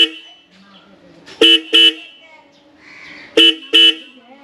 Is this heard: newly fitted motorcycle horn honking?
yes